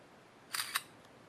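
Samsung Seek phone's camera shutter sound: two quick, crisp clicks about a quarter second apart, close and clear over a faint quiet background, with no talk.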